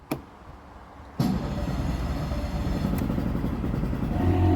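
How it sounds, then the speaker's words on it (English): An outboard motor on a jet pontoon boat starts up, a sharp catch followed by a steady loud running drone that holds close and continuous, with a brief clatter midway. "let's see if the outboard starts"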